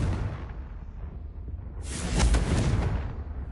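Confringo blasting spell from Hogwarts Legacy going off as a bright whooshing burst about halfway through, swelling into a loud sustained blast after a quieter ambient start.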